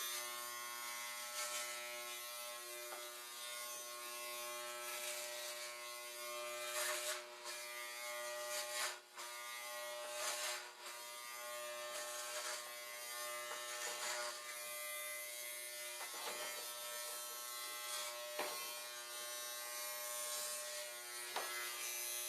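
A corded electric shaver buzzes steadily through a long continuous run, close and even in tone, with a few brief shifts as it moves across the skin and no speech over it.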